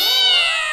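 A cat meows once, a loud, drawn-out, close cry that slides slowly downward, heard alone in an indoor comedy scene.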